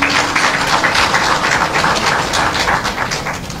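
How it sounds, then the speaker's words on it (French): An audience applauds the president of Burkina Faso at a formal ceremony, dense steady clapping filling the hall throughout. "que je vous prie d'applaudir"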